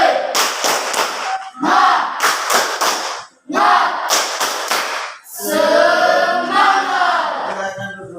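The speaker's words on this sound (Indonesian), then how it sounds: "Jadi, tepuk semangat." A seated group at a class session does a rhythmic spirit clap chant, loud shouted bursts in repeated clusters separated by short pauses, ending in a longer sustained group shout.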